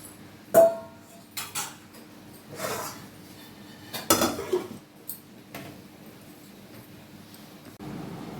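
Metal cookware clanks and knocks as a lid is set over a pot of chicken tehari, several separate close clinks and scrapes in a quiet kitchen.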